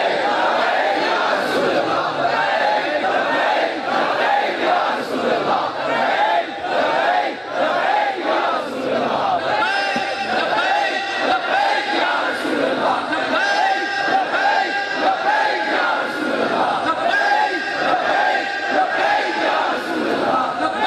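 A large crowd at a religious speech in Lahore chants slogans in unison: dense, loud, continuous rhythmic shouting of many voices, sustained throughout with no pauses.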